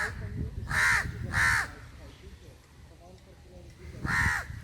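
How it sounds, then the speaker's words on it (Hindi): Three harsh crow caws: two in quick succession, then a third after a pause, ringing out over a low, rumbling outdoor background at Mainpat, Chhattisgarh. "हाँ, ये कौवे की आवाज़ है"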